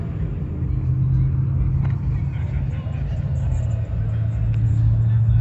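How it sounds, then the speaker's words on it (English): A turbo truck engine idles and rumbles at a car meet, a steady deep low drone with faint background activity throughout. "Yep, it is definitely the turbo truck."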